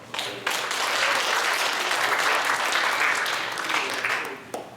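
An audience at a year-end Korean senior association banquet breaks into loud, dense applause that swells quickly and holds steady for several seconds before tapering.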